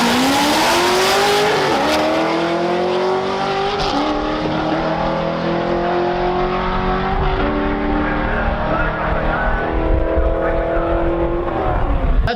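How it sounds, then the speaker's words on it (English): Chevrolet Corvette C6Z drag racing another car: loud, sustained engine roar with rising revs and gear changes throughout, close and continuous with no talk over it. "Max Jack racing Send It Steve."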